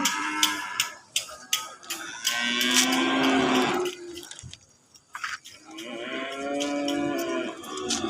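Cows low in long, loud, nearby calls at a morning animal market. Sharp clacks and knocks are scattered through the sounds, with a quieter pause before the mooing starts again.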